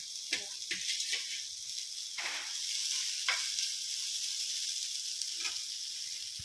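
Saag leafy greens sizzle and crackle in a hot pan, with a steady hiss broken by occasional louder pops and stirring scrapes, close by.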